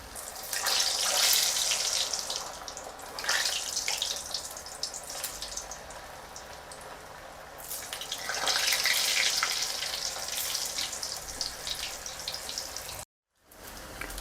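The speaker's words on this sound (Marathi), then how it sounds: "आता इथे तेल तापलेलं आहे माझं चांगलं हे बटाटे आधी उकडून घेतले होते आता आपण ते तळून घेतो" Boiled potatoes frying in hot oil in a home kitchen for a green masala potato dish. A steady, loud broadband sizzle runs throughout, swelling and easing in waves with no voices.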